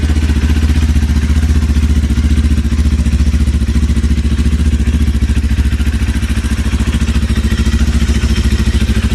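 A Zonsen Cyclone motorcycle exhaust burbles at idle with a rapid, even pulsing thrum, loud and close, running continuously without any voices.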